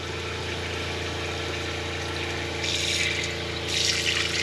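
A Franklin CX22 caravan water pump runs with a steady mechanical hum while hot water pours into a sink, a constant drone with a brief rise in splashing partway through.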